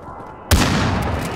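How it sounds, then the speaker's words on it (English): A precision airstrike in Call of Duty Warzone: a single heavy, close blast hits suddenly after a quiet moment and rolls into a long, roaring decay. "Airstrike inbound"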